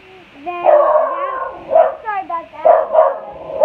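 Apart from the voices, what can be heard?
dog barking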